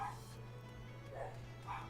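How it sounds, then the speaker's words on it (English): Dogs barking faintly in the background of a home room, a few muffled woofs spaced apart under low hum and quiet voice activity. "I apologize if you hear the dogs barking in the background"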